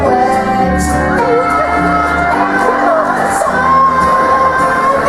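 Rowdy children in a classroom yell and whoop over one another in a constant, loud racket, voices rising and falling without pause.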